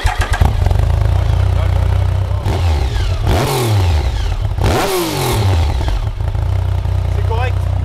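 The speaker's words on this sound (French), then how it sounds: "je mets le son, vas-y fais-la moi démarrer un chouille là." Triumph Speed 1050 Edition 94 motorcycle, recorded close up: a loud, throbbing engine note blipped into several sharp rising revs, then settling back to a steady idle.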